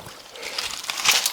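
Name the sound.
mountain stream water trickling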